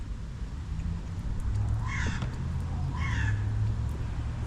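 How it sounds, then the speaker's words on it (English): A bird calls loudly outdoors, two harsh crow-like caws spaced about a second apart over a steady low engine drone from nearby mowing equipment. "What a crazy bird."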